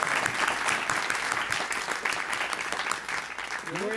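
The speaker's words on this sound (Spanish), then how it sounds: "Yo pido un aplauso para Eloy Cepero." An audience breaks into applause at a church gathering, with dense, steady clapping from many hands filling the room for the full four seconds at an even, sustained level.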